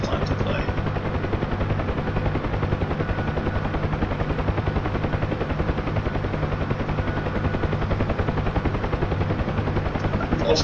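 A Huey helicopter in a flight video game, its rotor beating in a steady, close, continuous thump over an even engine drone for the whole stretch.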